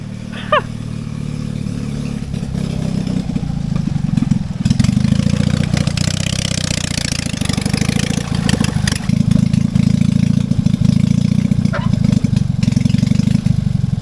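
A Fiat 126p car engine running near and loud, a steady throbbing idle that rises with repeated revs, with a few brief clicks and knocks.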